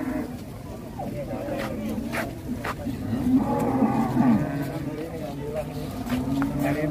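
A giant bull-like cow lows in a cattle pen, its deep drawn-out moos rising over a busy background of crowd noise and people talking nearby.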